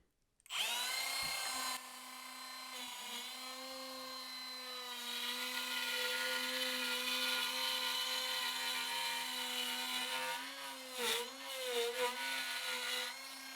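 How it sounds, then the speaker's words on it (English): Power saw plunge-cutting into wood in a workshop, a loud sustained whine that starts abruptly, holds steady through the cut and wavers near the end, with no talk. "I'm actually going to do a plunge cut"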